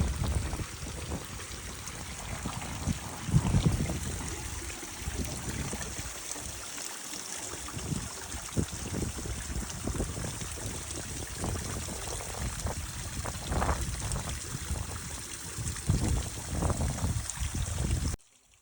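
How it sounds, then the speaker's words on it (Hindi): Cold mountain water falls and trickles from a rock outcrop near Morni village in India, a continuous close splashing and burbling stream with uneven gushes, heard on its own and ending abruptly. "पहाड़ से पानी निकल रहा है, और उसके नीचे खड़े होकर के जो ठंडक भरा पानी ऊपर गिर रहा है"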